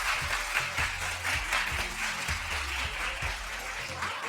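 Studio audience at a daytime talk show claps steadily throughout, a dense continuous patter with a voice talking low underneath.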